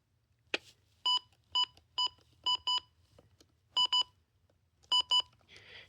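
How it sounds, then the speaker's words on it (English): Soft electronic beeps sound in short pairs and singles, evenly spaced, quiet and clean against near silence, with a click at the start. "This one has much quieter beeps."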